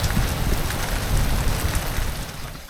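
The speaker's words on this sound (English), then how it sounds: "That is the heaviest rain we've just about seen the whole time we've been away since February." Heavy rain pours onto a sailing boat on a Mediterranean passage, a dense loud patter of drops drumming on deck and canvas with gusty surges, steady and close, no voices.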